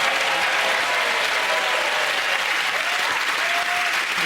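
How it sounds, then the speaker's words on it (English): A studio audience at the comedy panel show Mock The Week gives a loud, even round of applause that holds steady throughout, with no talk over it. "Give them all a round of applause."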